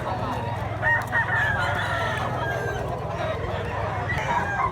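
Gamecock stag crowing at a busy rooster market in Mantalungon, Cebu, with other fowl clucking and crowing nearby over constant crowd chatter and background noise.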